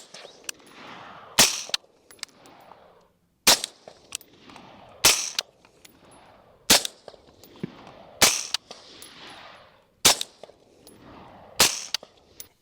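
Suppressed AR rifle firing eight loud, sharp shots at a steady interval of roughly one and a half seconds, each followed by a springy, ringing mechanical rattle from the factory buffer spring as it decays, with no talking.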